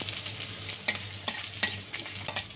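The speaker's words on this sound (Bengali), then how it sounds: "কালো জিরে আর সর্ষে, এগুলো দিয়ে ভেজে নিচ্ছি।" Panch phoron of fenugreek, fennel, radhuni, nigella and mustard seeds fries in oil, a soft steady sizzle broken by several sharp spoon scrapes and clinks; close and fairly quiet, no voices.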